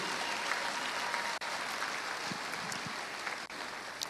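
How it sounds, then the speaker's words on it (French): A church congregation claps loudly and steadily in a sustained round of applause for the word of God, dense and unbroken with no talk over it. "Est-ce qu'on peut acclamer encore très fort la parole de Dieu?"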